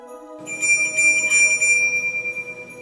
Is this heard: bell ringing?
yes